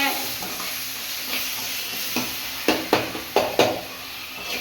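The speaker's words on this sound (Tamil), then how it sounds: "நல்லா வதக்குங்க" Dried fish curry ingredients sautéed and stirred in a pan, a steady sizzle with several distinct scraping stir strokes growing louder toward the end, no voices.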